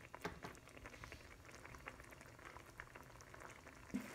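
Macaroni boils in a pot of water, a faint but steady bubbling and gurgling heard close by, with a small knock near the end.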